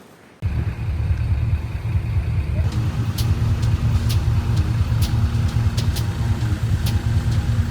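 A car drives onto a ferry ship bound for the Faroe Islands. A steady, close, low engine rumble runs throughout, with occasional sharp clicks and rattles from the ramp or deck.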